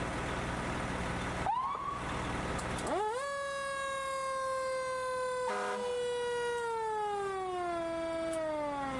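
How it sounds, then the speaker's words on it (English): A 2014 fire truck siren starts up with a brief whoop, then winds up into a loud, steady wail that slowly falls in pitch, close by. "I'm going to go ahead and check the sirens right now"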